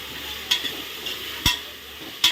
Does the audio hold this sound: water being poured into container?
no